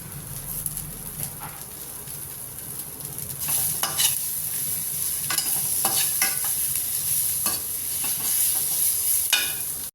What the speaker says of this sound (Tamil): அடுத்தது தக்காளியை போட்டுக்கலாங்க போட்டு எல்லாத்தையும் வதக்கிக்கலாங்க நல்லா